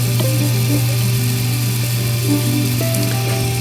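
A Miele dishwasher running after a reset, giving a steady, loud, close motor hum with tonal whine and water-flow rumble, a smooth continuous fill sound with no rattling or machine-gun noise.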